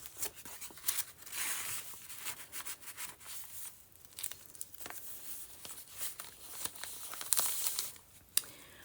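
Old eco-dyed farm tax paper pages of a grungy, rustic tall journal being handled and turned, with steady crinkling, rustling and rubbing close by, plus a few sharper crackles, and no talking.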